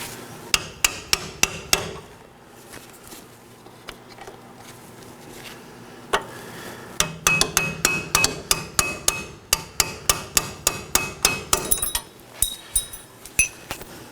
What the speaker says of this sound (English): I'll be using a hammer and chisel.